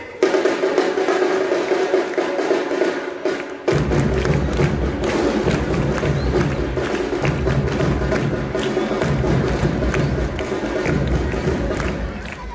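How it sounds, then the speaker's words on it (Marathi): Loud applause with some cheering breaks out at a school felicitation ceremony for scholarship students, starting abruptly after a quiet hall and continuing as dense, steady clapping to the end. "जोरदार टाळ्या पाहिजे"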